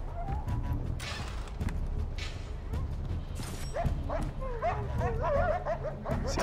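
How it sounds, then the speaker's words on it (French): Dogs or wolves barking, yipping and whimpering in the video game Far Cry 4, several animals at mid distance mixed with game effects and a voice talking. "C'est des chiens ou des loups?"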